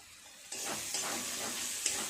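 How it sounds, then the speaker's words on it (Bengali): Spices frying and being stirred in hot oil for mochar ghonto, a Bengali banana-flower dish with cumin powder: steady close sizzle and hiss with a few scraping stirs, no voices. "খুব ভালো করে সমস্ত মশলা কষিয়ে নেব"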